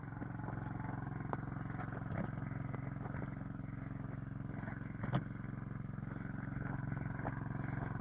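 A petrol water pump engine runs after a pull start, a steady low motor drone with a rapid pulsing beat and occasional light clicks and knocks, moderately distant and fairly faint.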